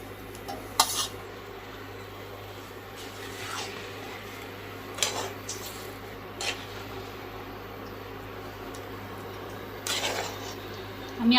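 Soft lote fish being sautéed in a pan, heard as faint rubbing and scraping of a spatula with a few sharper clinks against the cookware over a quiet background.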